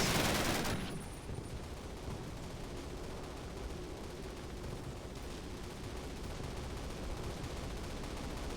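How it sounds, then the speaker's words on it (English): Two MG42 machine guns and an anti-aircraft gun firing continuously in Call of Duty (2003) during the airborne D-Day drop, a dense unbroken roar of gunfire with a loud burst at the start. "2 MG42s and an anti-aircraft gun breaks the game."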